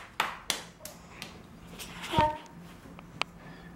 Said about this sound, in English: Clap's getting stronger and stronger